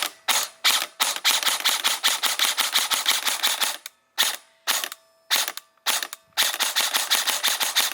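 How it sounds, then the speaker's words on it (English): A Krytac CRB airsoft AEG fitted with a DSG upgrade fires on semi-automatic in quick, sharp, evenly spaced shots. Long rapid runs are broken by a few short pauses and isolated bursts, close and loud, with no voices. "now we're going to do a test just to see how fast it actually shoots on semi-automatic"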